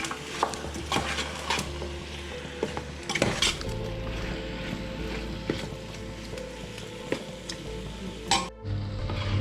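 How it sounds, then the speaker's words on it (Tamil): Chicken sautéing in a pan for Sankarankovil-style biryani sizzles steadily while a metal spoon scrapes and clinks against the vessel as it is stirred, close and clear with no talking. "சிக்கன் வந்து இப்போ நல்லா வதங்கிடுச்சு."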